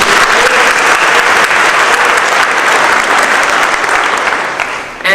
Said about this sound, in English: And the depiction, we can clap for this.